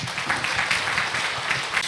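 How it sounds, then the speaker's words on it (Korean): An audience claps for a keynote speaker at an international conference on education and AI, a brief, moderate burst of scattered applause filling the hall. "여러분 큰 박수 부탁드립니다."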